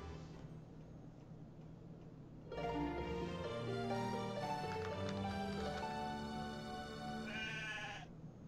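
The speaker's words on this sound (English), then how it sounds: "I'll be counting the sheep outside." Sheep bleat in the video game Succubus Quest over a soft ambient background, and a brighter game music or jingle layer enters partway through and continues to the end.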